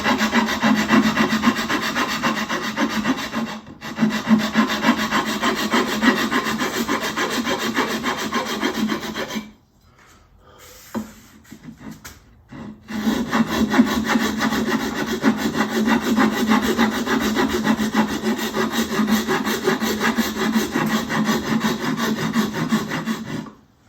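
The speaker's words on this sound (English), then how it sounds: "just a good sharp dragon rasp really is hard to beat" A sharp dragon rasp carves a wooden shoe heel in steady, aggressive back-and-forth strokes. The rasping is loud and close, runs continuously, pauses briefly around the middle, then resumes. No one speaks.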